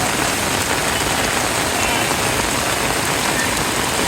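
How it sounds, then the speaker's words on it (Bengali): Steady heavy rain pours down continuously, a dense even hiss of drops hitting surfaces with no pauses. "বৃষ্টি পড়ছে তো পড়ছেই"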